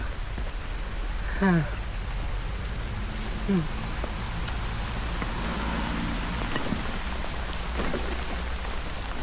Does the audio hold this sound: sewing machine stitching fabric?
no